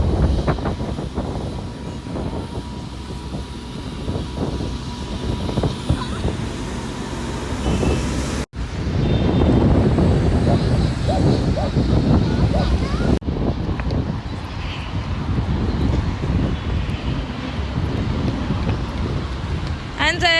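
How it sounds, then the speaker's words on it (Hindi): Strong wind buffets and roars across the microphone in Istanbul while light drizzle falls, a broad continuous rushing noise with brief dropouts and a voice talking over it. "इतनी तेज़ हवा चल रही है और आज हल्की हल्की सी बारिश भी हो रही है."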